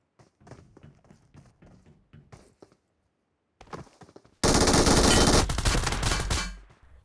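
A rapid, loud burst of automatic gunfire in a shooting video game replay roars for about two seconds after a stretch of lighter sparse taps and thuds, then fades out.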